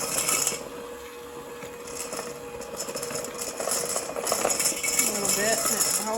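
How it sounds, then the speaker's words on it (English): Steady scraping and rasping as cocoa powder is beaten into creamed butter for a Black Forest gateau, with a close, continuous rhythmic scrape, faint clinks and talk throughout. "Then add in your cocoa powder and mix that with your butter."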